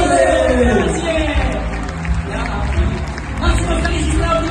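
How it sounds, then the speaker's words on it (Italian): A theatre audience at a live concert claps and cheers throughout, a dense, steady wash of applause with crowd noise blended in and a voice rising over it. "Un applauso!"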